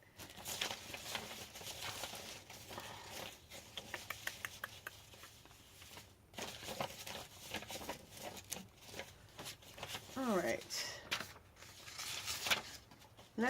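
Scrapbook paper handled and laid down in art journal mixed-media work, soft papery rustles, taps and small crinkles close by, with a few brief spoken words.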